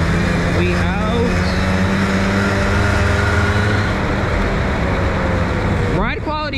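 A Honda Motocompo scooter pulls away at a green light, its small engine droning steadily under broad road and traffic noise, with a faint rising whine and a brief vehicle pass near the end.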